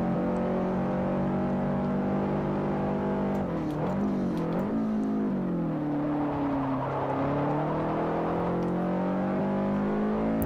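A Subaru Impreza STi in Forza Motorsport 4 hums along with a steady, smooth engine drone, the pitch dipping and rising through gear changes and corners, loud and continuous.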